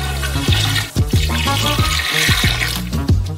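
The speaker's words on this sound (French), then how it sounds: "Ajoutez également 1 litre d'eau chacun." One litre of water poured into a bowl of sugar for a giant homemade Nutella Go, a loud, steady gushing pour with rhythmic glugging splashes close by.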